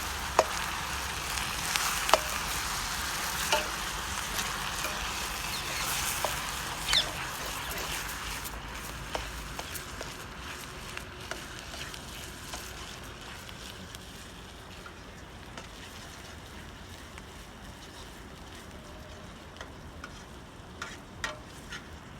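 Onions sautéing in oil in a pan, a steady close sizzle with occasional light clicks from stirring, gradually easing in loudness.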